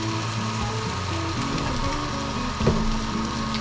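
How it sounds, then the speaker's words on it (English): Sizzling chili pot with kidney beans as canned diced tomatoes go in, a continuous crackling fry with a low steady hum underneath and a brief louder burst of stirring late on. "We're going to add half of this can of diced tomatoes."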